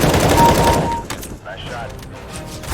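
Rapid gunfire rattles in a fighting video game, a dense loud burst that cuts off abruptly, followed by scattered softer impacts and effects.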